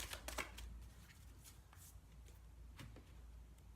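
Tarot cards riffle and slap together in a close, quiet shuffle, a flurry of soft flicks followed by gentler shuffling.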